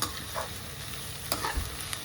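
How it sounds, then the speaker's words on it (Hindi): Steady crackling sizzle of a tadka, spices frying in hot oil for moong dal, with a few sharper spatters and a brief low thump near the end. "ये अम्मी ने अपना तड़का लगा दिया जी इसमें मूंग डाल के।"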